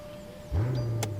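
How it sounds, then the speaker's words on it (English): A Mercedes-Maybach S650 Cabriolet V12 engine cranks and catches at about half a second, settling into a steady, deep idle rumble, with a brief high whir just after. "3, 2, 1, let's start up the V12"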